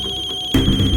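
A mobile phone ringtone bursts in suddenly over a steady electronic tone in a TV crime drama scene, loud and close, continuing to the end.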